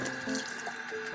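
Pork bones for a spicy Thai soup rinsed under a running kitchen tap, a steady close splash of water into a sink filling the whole moment without any talk.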